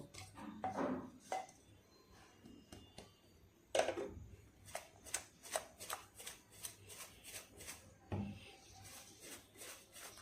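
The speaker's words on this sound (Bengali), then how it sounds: "এখন ভালোভাবে একটু মিশিয়ে নিব, মিশিয়ে চুলার পাশে চলে যাব।" Ash gourd pieces being mixed with sugar and a pinch of salt in a bowl for murabba: soft, close scraping and stirring strokes in an uneven rhythm, quiet, with no talking.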